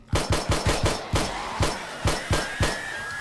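Rapid bursts of gunfire in the zombie survival game 7 Days To Die, about ten loud sharp shots fired in quick irregular succession, close and dominant, with no talking.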